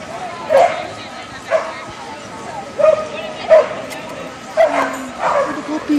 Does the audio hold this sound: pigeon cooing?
no